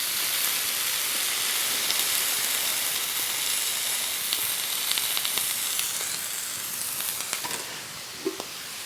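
A Reuben sandwich fries in a pan with a steady, bright sizzle and hiss close by, a few small pops and crackles near the end.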